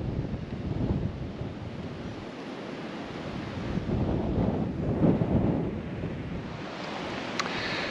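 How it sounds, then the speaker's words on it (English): Steady wind buffets the microphone in a continuous rumbling roar at Aquaviva in Abruzzo, Italy, swelling in gusts around the middle, with a faint wash like distant surf. "here on a very windy day"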